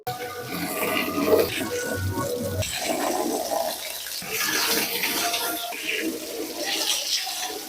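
Water splashes and streams continuously over a motorbike being washed outdoors, a steady broadband rush that shifts in intensity across several seconds, with faint voices in the background.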